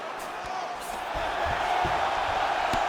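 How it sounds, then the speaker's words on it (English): A crowd roars in the arena of the EA Sports UFC 5 video game during a Khabib Nurmagomedov vs. Dricus Du Plessis bout, a broad, steady cheer that swells slightly, with faint thuds underneath. "huge pop from the crowd as the fighters get back up to their feet"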